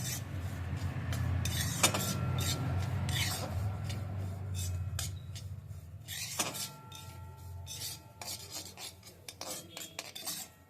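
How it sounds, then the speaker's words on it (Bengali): Semolina roasts over medium heat in a pan while a metal spatula stirs and scrapes it continuously, giving a steady close rasp broken by frequent clinks against the pan. "এবার এই সুজিটাকে লাল করে ভেজে নেব"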